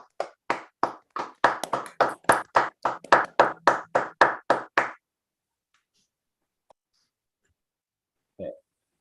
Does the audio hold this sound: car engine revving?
no